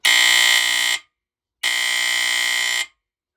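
A Firex FX1014 smoke alarm, an old unit, gives two long, loud, shrill electronic tones, each about a second, separated by a short silence.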